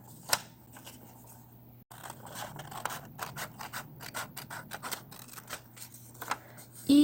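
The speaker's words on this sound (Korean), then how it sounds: "중심선에서 한 칸 떨어진 이 부분을 가위로 자릅니다." Scissors snip through paper for origami in a quick series of close, crisp cuts, steady and fairly quiet, with some light rustling of the sheet between snips.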